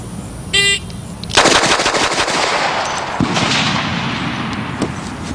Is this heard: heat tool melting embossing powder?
no